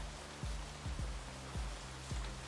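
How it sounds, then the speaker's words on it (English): Steady rain hisses over the docks in Shadowrun: Hong Kong, a dense wash of wet noise with several low thuds breaking through at intervals. "Rain lashes the broken bodies of the Knight Errant personnel"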